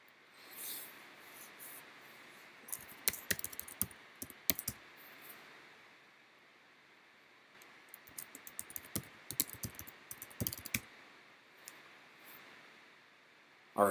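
Fingers type a password on a computer keyboard in quiet bursts of quick, light key clicks separated by short pauses, with no talk.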